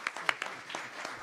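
Applause from an audience at a civic forum in Louisville, with scattered, uneven claps that stay moderately quiet over a short burst.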